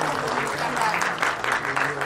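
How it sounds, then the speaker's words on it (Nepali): An audience at a Nepali film event applauds the film team with a short, steady burst of clapping that is nearby and mixed with a speaker's voice. "एकचोटि जोरदार ताली विशालको टिमलाई।"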